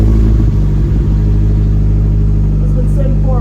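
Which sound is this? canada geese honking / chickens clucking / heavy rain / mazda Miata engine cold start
mazda Miata engine cold start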